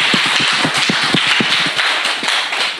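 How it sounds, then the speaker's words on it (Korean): Lecture audience at a Korean public talk claps in a steady, fairly loud burst of individual hand claps, close and fairly even, with no talk over it. "박수"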